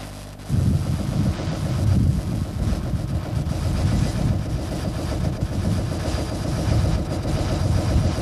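A narrowboat's diesel engine idles with a steady, dense low throb that kicks in after a brief quiet moment and carries on evenly and loud, close by.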